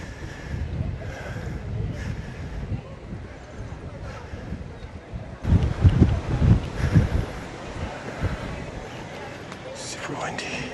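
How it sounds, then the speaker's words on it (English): Strong wind roars and buffets the microphone throughout a motorcycle ride on a rough road in the Philippines, a steady low rumble that swells into heavier gusts midway. "Super windy."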